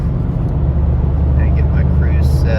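A 2023 Toyota GR Corolla engine drones loud and steady from inside the car while driving in a low, continuous rumble, with faint chirps of other sounds briefly over it.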